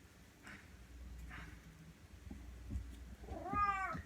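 A cat mews softly a couple of times, then lets out a louder, drawn-out meow near the end over a faint background hiss.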